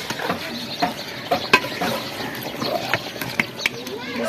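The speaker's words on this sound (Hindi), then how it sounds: "आटा जो है गूंथाई शुरू हो चुका है।" Flour dough is kneaded by hand in a Pakistani village kitchen: soft, irregular slaps and squishes repeat close by at an uneven rhythm, with quiet talk in the background.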